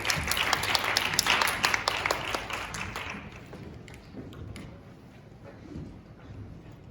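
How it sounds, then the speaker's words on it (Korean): A church congregation bursts into vigorous applause to welcome a new president, with dense sharp clapping for about three seconds before it thins out to scattered claps and quiet room noise. "우리 힘찬 박수로 환영하겠습니다."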